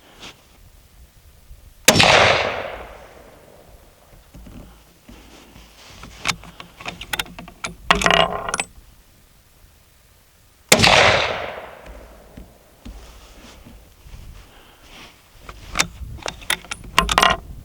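A Remington rifle fires two loud shots several seconds apart while shooting a five-shot group outdoors, each a sharp crack with a decaying echo, separated by quieter clicks and rattling handling noises.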